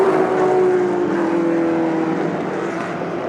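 A Shelby race car climbs a hill at full throttle, its engine a sustained, loud roar with a steady droning tone that holds and then slightly shifts pitch, no talk over it.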